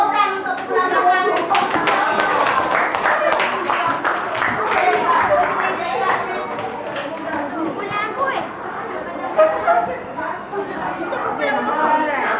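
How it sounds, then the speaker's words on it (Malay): Schoolchildren in a classroom clap their hands amid lively chatter and voices, with sharp hand claps scattered over a steady crowd murmur throughout. "bagi tepukan untuk pulang belakang"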